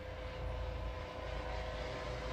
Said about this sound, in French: Alors désolé, il y a un hélicoptère qui passe.